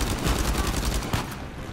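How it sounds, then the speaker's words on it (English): Rapid automatic gunfire in Uncharted 4 crackles in a dense burst of closely spaced shots, loud and near, with one sharper crack before it trails off, no talk. "Why did I shoot that guy again?"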